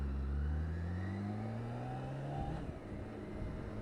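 A 2018 BMW K 1600 Bagger motorcycle engine climbs steadily in pitch, then briefly drops as it shifts gear smoothly through the quick shifter. It keeps pulling afterward under a steady rush of wind.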